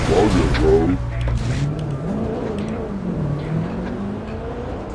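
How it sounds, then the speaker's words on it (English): Engine and road noise from car traffic in a video game, a low steady rumble with rising and falling revs, loudest at the start, under talk. "Wow, this traffic's bugging"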